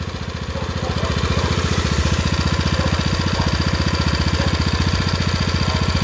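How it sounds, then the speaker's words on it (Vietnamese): A Japanese Mitsubishi GM small engine idles loud and close, with a steady rapid thumping beat that stays even throughout. "Máy hoạt động rất là êm ái luôn."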